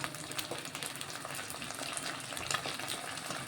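Ginger garlic paste fries in a pan while egg noodles are being made, giving a faint, steady sizzle and crackle that carries on evenly throughout with no talking.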